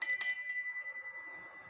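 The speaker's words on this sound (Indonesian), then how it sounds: "saya akan menandai dengan tanda lonceng berbunyi" Small bell rung once to mark a playing-card fortune reading, a bright single ding with a quick second strike, ringing close and clear before fading out.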